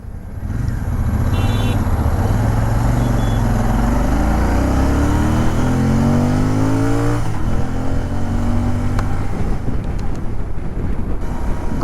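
A 2020 Royal Enfield Interceptor 650 with its 650cc engine cruises down a highway, a loud continuous engine drone with rising and shifting gear tones under heavy wind buffeting against the microphone, no voices.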